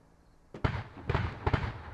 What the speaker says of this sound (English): The BMP is shooting something.